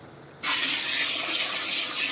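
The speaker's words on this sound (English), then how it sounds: "now I'm going to keep spraying water in here" Water spraying into a wild clay pit in North Idaho, starting abruptly as a loud, steady hissing rush that continues without pause, close up.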